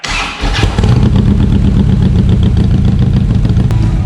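A Harley-Davidson Street Glide engine with mufflers fires up inside a shed and settles into a loud, close, steady rumble that fills the enclosed space.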